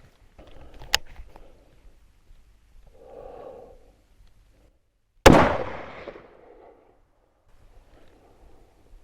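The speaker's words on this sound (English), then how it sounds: "So I just shot what I think is a really big deer." A single sharp, loud rifle shot from a straight-pull hunting rifle fired at a deer cracks out and decays with a short echo, preceded and followed by faint quiet breathing and rustling.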